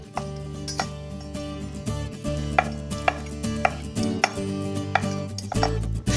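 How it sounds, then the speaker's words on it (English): A kitchen knife chops calamari into rings on a board, with about a dozen sharp, evenly spaced cuts over a soft background hum. "And now let's cut the calamari itself."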